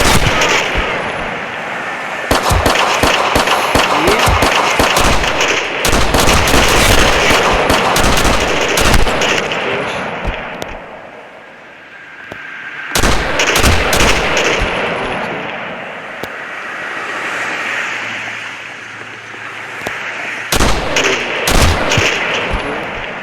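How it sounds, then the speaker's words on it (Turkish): Loud, repeated gunfire bursts from the mobile sniper game Lonewolf as shots are fired at car fuel tanks, with rapid clusters of shots separated by brief pauses and a low rumble between volleys. "Arabaların deposuna sıktık patlasını da"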